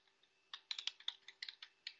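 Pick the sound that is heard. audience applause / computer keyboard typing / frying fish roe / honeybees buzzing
computer keyboard typing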